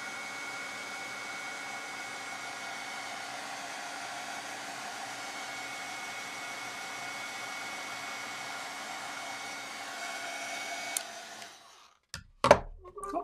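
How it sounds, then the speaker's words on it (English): A heat tool melts embossing powder on a card greeting, giving a steady, close, hair-dryer-like whoosh for about eleven seconds before it cuts off, followed by a few brief clicks and handling knocks. "I'll get my heat tool warmed up"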